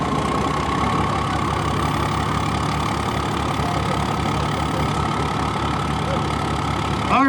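A six-cylinder diesel truck engine with twin turbos idles at a pulling event at an agricultural fair, a loud, steady low rumble with a rhythmic knock close by and no voices.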